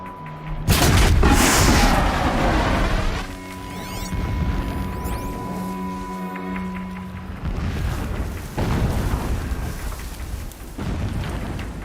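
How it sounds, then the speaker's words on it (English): Deep, rumbling booms of distant explosions in Horizon Zero Dawn roll across a game landscape, a loud opening blast followed by lingering low rumbles and ringing tones, with no talk. "explosions in the distance"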